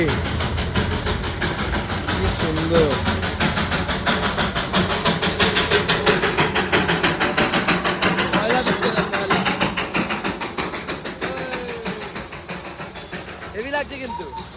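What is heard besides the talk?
Darjeeling toy train approaching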